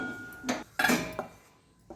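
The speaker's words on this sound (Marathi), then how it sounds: "तर हे आपल्याला भांड्यामध्ये काढून घ्यायचं आहे" Roasted wheat flour is scooped from a pan into a vessel: a few close metallic scrapes and clinks of a spoon against cookware in short bursts, with pauses between.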